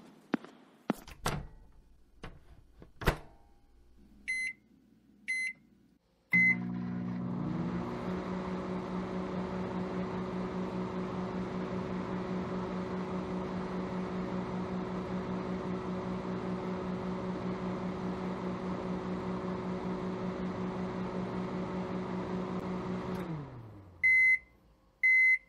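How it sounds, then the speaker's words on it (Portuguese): A microwave oven in the video game The Sims FreePlay heats pasta: a few clicks and beeps, then a long steady electric hum that ends in a chime of beeps. "Bora pro micro-ondas."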